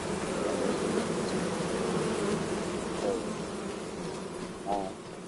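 Bees swarm with a continuous, dense buzzing around the beehive area of a farm in Farming Simulator 25, steady and fairly loud with a few faint brief sounds on top.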